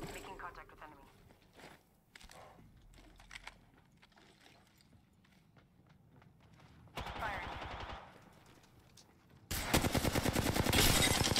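Apex Legends gunfire comes as bursts of rapid automatic shots, with a short burst in the middle and a louder sustained volley at the end. Keyboard clicks and talking sound between the bursts.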